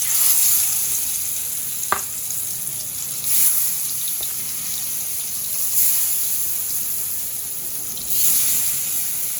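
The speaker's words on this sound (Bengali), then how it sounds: "এখানে আবার কাঁচামরিচ ফাটতেছে" Green chilies frying in hot oil in a home kitchen, giving a steady, fairly loud sizzle with a few sharp crackles and pops, and no talking.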